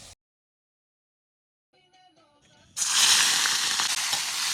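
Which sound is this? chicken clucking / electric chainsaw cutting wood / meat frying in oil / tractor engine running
meat frying in oil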